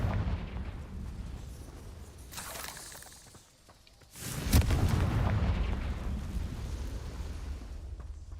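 A fiery Confringo blast spell from Hogwarts Legacy goes off with a sudden loud boom that swells into a rumbling roar after a short lull, layered over steady game ambience.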